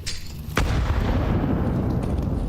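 A grenade blast in a Counter-Strike match, a sharp loud detonation after a brief lead-in of game noise, followed by a sustained rumbling tail.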